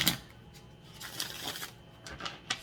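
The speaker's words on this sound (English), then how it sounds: "So that was our third shuffle." Tarot cards being shuffled close by, a soft riffling rush with a few sharper flicks and taps, no voices.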